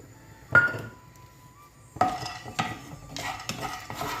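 Cashews and almonds fry in ghee in a pan, giving three separate stirring scrapes and clinks of a metal spoon against the pan over a soft sizzle.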